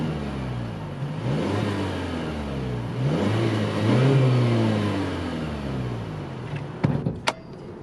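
A 2021 Mazda CX-30 Turbo with a 2.5-liter turbocharged inline-4 fires up from push-button start, the engine revving and settling into a smooth mid-pitched idle, followed by a few sharp clicks near the end.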